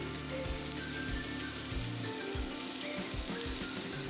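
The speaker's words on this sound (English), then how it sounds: "they can be sort of sauteed along with the chopped onion" Garlic, onion and celery sautéing in a generous amount of oil in a pot for lentil soup, a faint, steady sizzle and crackle with soft low bumps of stirring, no talk.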